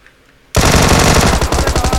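Automatic gunfire in the PC Lite version of PUBG erupts after a brief quiet lead-in, then continues as a loud, dense burst of rapid shots for the remaining second and a half, with no talking.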